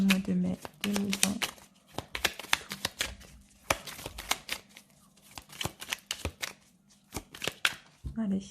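Tarot cards are shuffled and cut in a quick run of crisp riffling flicks and soft slaps, busy and close, with a voice speaking briefly at the start and the end.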